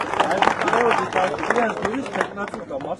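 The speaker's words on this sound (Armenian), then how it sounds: "Եկեք ծափահարենք վարդեր մայրիկին" An audience applauds an elderly woman at a gathering, with scattered claps rising and falling over steady crowd murmur while voices talk throughout.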